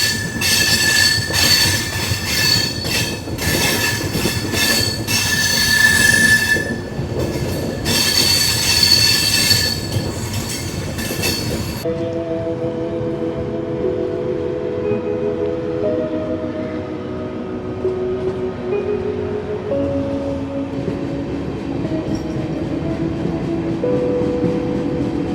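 A Double Decker Express train runs steadily along the rails beside a parallel meter gauge track, with continuous rumbling, wheel noise and squealing, the roar becoming somewhat muffled partway through with tonal whines emerging.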